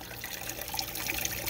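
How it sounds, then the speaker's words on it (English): Water pumped up a 3D-printed hydroponic tower trickles and splashes onto the net pots, a faint continuous dribble with small bright drips scattered through it. "And you'll see the water hits each of the net pots."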